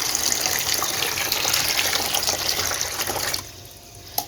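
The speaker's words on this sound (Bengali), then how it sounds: "নতুন জল ওপর থেকে একটু হাইট করে দেবে" Fresh water poured from a height into a container of live tubifex worms kept as fish food, a steady close splashing gush that runs for about three seconds and then cuts off, ending in quiet.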